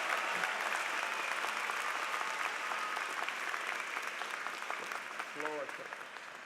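Graduates clap together at a university commencement ceremony, a dense, steady wash of applause filling the room from start to finish with no pauses.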